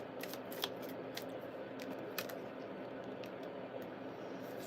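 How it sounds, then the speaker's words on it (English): Tarot cards being shuffled by hand in a quiet room, giving a steady soft rustle with a few sharper riffling snaps spread across the stretch, fairly close and alone without talk. "if you don't like watching people shuffle"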